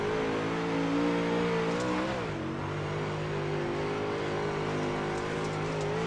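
A modified race car at Eldora, heard onboard from the car itself, drones loud and steady at high revs, with a brief pitch dip as it lifts and gets back on the throttle, and no talk over it.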